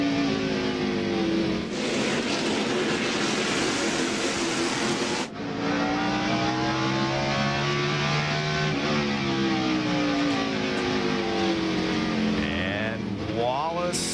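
Stock race cars at the 1999 NAPA AutoCare 500 roar loudly down the backstretch, their engine notes rising and falling as they pass, while a commentator talks throughout.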